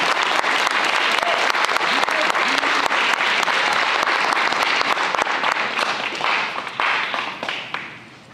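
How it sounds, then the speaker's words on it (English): A crowd at a high school National Signing Day claps loudly and continuously for a student athlete signing his paperwork, with the applause tapering off toward the end. "let's give a round of applause and congratulations to Grayson Hammond"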